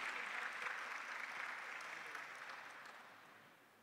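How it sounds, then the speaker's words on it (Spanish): An audience at a university honorary doctorate ceremony applauds, a soft, dense patter of clapping heard from a distance that gradually fades away. "Brindamos un muy fuerte aplauso también a las profesoras e investigadoras de la UNSAM"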